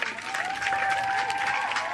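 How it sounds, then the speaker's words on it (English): An audience at a Kamehameha Schools Hawaiʻi elementary May Day celebration in 2019 breaks into steady, loud applause that fills the whole stretch, with a thin sustained tone running beneath the clapping. "let's a round of applause for Papa Mala'o coming on"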